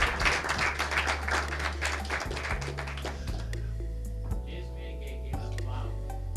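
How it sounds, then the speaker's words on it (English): Applause from the audience at a local access television station's annual meeting, honoring staff and interns; dense clapping rolls at first, then thins into scattered claps beneath low hum and murmured talk. "So please give everybody a round of applause."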